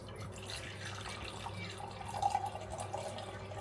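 Lukewarm tap water running in a home kitchen while measuring liquid for bagel dough, a steady faint splashing stream that swells slightly midway.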